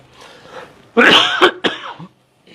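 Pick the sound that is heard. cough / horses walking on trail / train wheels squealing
cough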